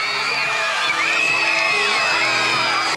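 Elementary school children scream in a crowd at their school when a famous pop group turns up, a dense, continuous high-pitched mass of shrieks and yells that stays loud and steady throughout.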